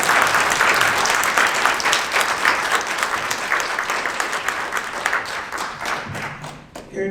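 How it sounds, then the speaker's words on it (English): An audience at an ACLU annual meeting applauds two honorees with sustained, thick clapping that starts strong and slowly thins and fades toward the end, a few scattered claps and faint thumps lingering. "How about another round of applause for these two incredible individuals?"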